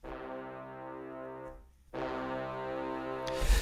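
Xenology synth's Biggie Brass 2 preset sounds a rich, sustained brass tone for a trap beat in two held notes with a short gap between them, full and up front.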